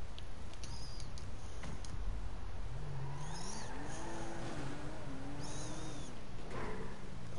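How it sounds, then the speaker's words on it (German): A lowered car in GTA 5 driving with its underside scraping the ground: a low, wavering engine tone rising and falling under steady broadband grinding noise, with occasional higher squeaks. "bei dem Wagen schleift alles am Boden"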